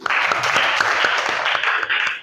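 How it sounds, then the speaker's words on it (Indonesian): Classmates clap for a student in a classroom, a brief burst of many hands at close range that stays fairly loud and even before tapering off at the end. "Iya, tepuk tangan untuk Hafiz."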